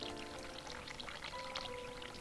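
Water pours in a video game as a faint, steady trickling stream, continuous and soft throughout, with no talk over it.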